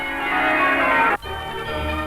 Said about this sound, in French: Les cloches de Mary-le-Beau ont donc pu annoncer l'an nouveau comme elles le firent naguère chaque année.